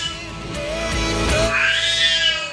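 A pet cat gives a drawn-out, wavering meow, close and fairly loud, rising in pitch toward the end, with no talking.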